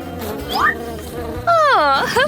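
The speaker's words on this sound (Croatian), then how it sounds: "Phoebe, tamo su pčele." Bees buzz close by in short, whining bursts that rise and fall in pitch, with one longer, louder drone near the end.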